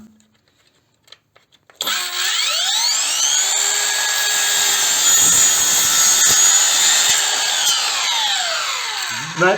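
A Ronix 8902K 20-volt cordless circular saw with a new blade spins up and cuts through fairly dry pine board, a loud steady whine holding for about eight seconds before winding down, with no talk over it.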